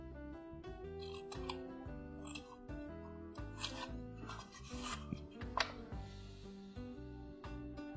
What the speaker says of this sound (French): Ou seulement des fentes avec ton ciseau comme ceci.